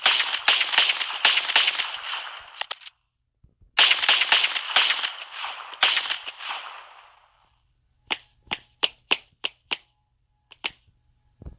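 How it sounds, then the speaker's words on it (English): Gunfire in the mobile game MadOut2: loud bursts of rapid sharp shots, a pause, another long burst, then a string of single evenly spaced cracks, with no talking. "Shoot the windows."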